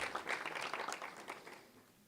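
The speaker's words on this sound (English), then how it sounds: "Round of applause for Project Sugavia." Applause from an audience at an Enactus Ventures pitch event for Project Sugavia, a fairly faint, dense patter of clapping that fades away toward the end.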